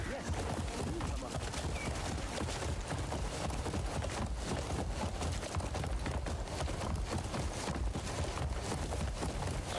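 Steady rapid hoofbeats of a galloping horse in a video game, a continuous dense drumming rhythm at constant loudness with no pauses.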